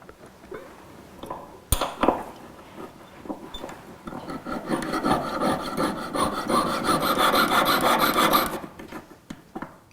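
A goldsmith saws through a silver rod with a fine jeweler's saw while making a men's ring: a steady, close rasping scrape that builds into a continuous grind, with a sharp click early on.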